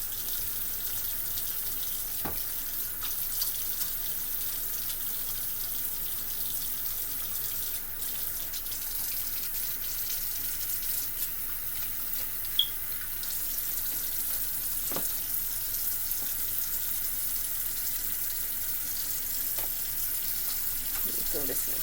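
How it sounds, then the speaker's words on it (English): A kitchen tap runs steadily while hands are washed, a constant hiss of flowing water with faint splashes, close and even throughout. "Let me wash my hands,"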